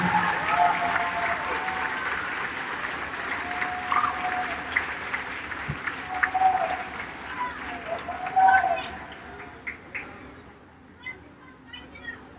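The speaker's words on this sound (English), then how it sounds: "Let's get a big round of applause for your parents." Audience at a District 2 AAA swimming meet applauds the swimmers' parents, a sustained round of indoor clapping that fades out over about ten seconds.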